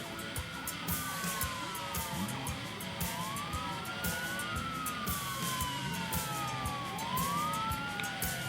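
An emergency vehicle siren wails at a drag strip during a street drift league event, its rising and falling tones sweeping steadily over a constant background rumble, moderately loud and continuous with no talk.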